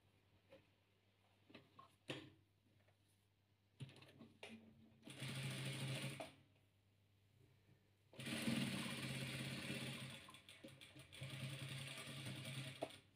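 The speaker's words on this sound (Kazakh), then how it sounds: "Осыны осылай тігіп аламыз." A sewing machine stitches patchwork in several runs, a close, steady rapid whirring that starts and stops, with brief quiet gaps and light handling clicks between bursts of stitching.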